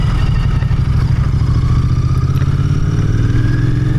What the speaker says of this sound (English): That induction whistle you have on this engine is actually rather tasty